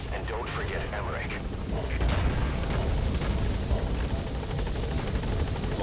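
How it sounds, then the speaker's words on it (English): Loud, steady rotor thump and engine whine of a helicopter touching down in Metal Gear Solid V, constant throughout with game effects and some talk over it. "All right, the chopper's touching down"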